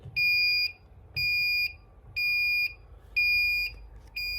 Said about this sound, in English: That will mimic our high temp alarm.